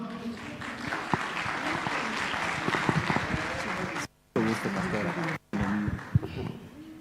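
Church congregation applause at a gathering of the faithful in La Paz, Bolivia, loud clapping mixed with voices and cheering throughout, broken by two short dropouts.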